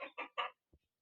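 Chickens on a rooftop cluck in three quick close bursts, then a soft low thud, all fairly quiet against a silent background.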